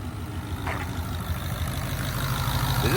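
A Ford Mustang GT V8 runs at a steady idle, a continuous low rumble with a slightly uneven, odd undertone, heard up close and alone.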